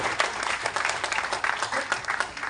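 An audience at a live speaking event claps together in sustained, dense applause, loud and even throughout with no voices over it.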